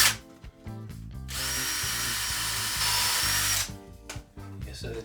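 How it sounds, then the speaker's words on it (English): A power drill bores a bolt hole into oak, whirring steadily for a couple of seconds between quieter knocks and handling sounds. "I'll drill a hole for the timber bolts to go through."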